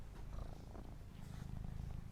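A pet cat named Nemesis purrs close to the microphone, a continuous low rumbling purr with a steady pulsing rhythm and no talk over it.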